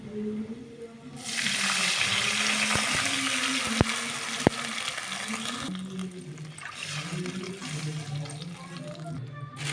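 Water rushes steadily into a pot of rice, loud and continuous, then eases off. A voice hums or talks faintly underneath, with a couple of sharp clicks.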